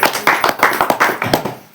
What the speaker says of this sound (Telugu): హల్లెలూయా చప్పట్లు కొట్టండి.